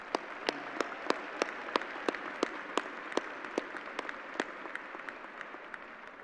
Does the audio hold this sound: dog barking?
no